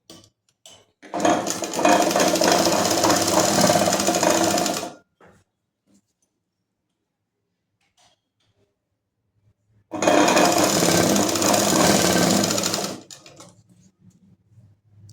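A sewing machine stitching a double-folded sleeve hem, two loud continuous runs of rapid needle clatter, each about three or four seconds long, separated by a long silent pause.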